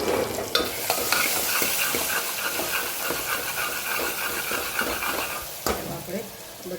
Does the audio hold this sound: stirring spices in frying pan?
yes